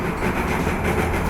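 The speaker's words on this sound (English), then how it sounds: "On the ride, you hear the engine breathing." A steam tank locomotive rolls along the rails, a dense, steady mechanical rumble with a faint rhythmic churning, heard up close with no voices.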